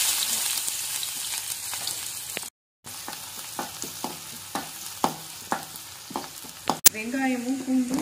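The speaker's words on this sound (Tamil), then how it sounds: "பொடிசா நறுக்கி வச்சிருக்கிற வெங்காயம் பூண்டு சேர்த்துக்குவோம்" Chopped onion and garlic sizzle in hot oil for a vegetable fry, with crackling spatter and repeated clinks of a spoon stirring the pan.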